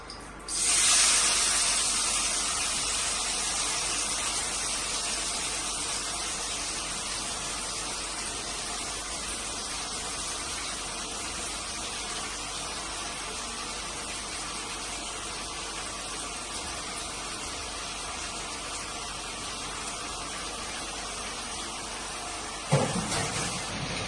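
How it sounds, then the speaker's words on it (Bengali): Potatoes dropped into hot oil in a wok, starting with a loud burst of hissing and settling into a continuous, close, crackling fry that holds for the whole stretch, with a brief clank near the end. "ক্রিস্পি ক্রিস্পি আলু ভাজা হবে।"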